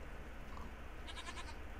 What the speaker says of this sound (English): Damn goats, man.